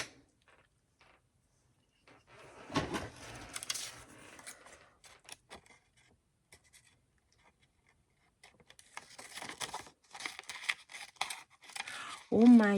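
Scissors cut through paper for a handmade winter tag in two bursts of quiet, crisp snipping and rustling, separated by a pause.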